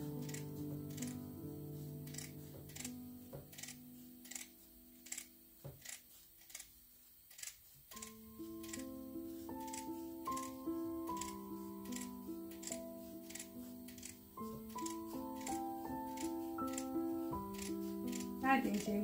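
Scissors snip away excess fabric beside a sewn seam in a series of quick, crisp cuts, soft and close, over quiet background music.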